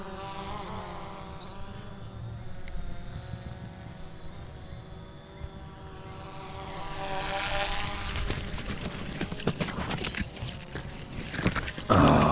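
A steady, high-pitched electric whine of a small drone hovering nearby, holding an even buzzing tone that swells louder toward the end, with no talking.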